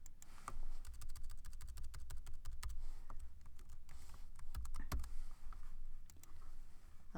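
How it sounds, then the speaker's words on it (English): Fingers tap out a chart title on a computer keyboard in a steady patter of quick, light keystrokes, close by and fairly quiet, with no voices. "We just type title."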